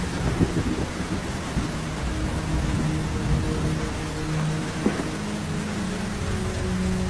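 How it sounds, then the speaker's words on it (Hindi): Heavy cartoon rain pours down over a forest in a constant dense hiss, with a few low rumbles and occasional heavier drops, no voices. "पिछले 7 दिनों से जंगल में बहुत तेज बारिश हो रही है"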